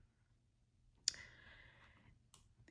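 Single sharp computer mouse click, close and quiet, during a Cricut Design Space session, followed by a soft fading tone and a fainter second click, with no talk.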